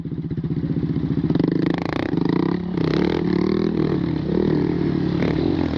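Several Grom motorcycles rev loudly and steadily throughout a group wheelie at a stunt meet on a hot day, a continuous close, mid-pitched engine drone with throttle swells and no talk.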